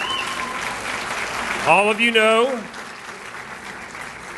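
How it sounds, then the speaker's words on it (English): Broad audience applause at a university athletic Hall of Fame ceremony, steady and moderately loud, as a voice speaks briefly over it partway through. "Round of applause, please."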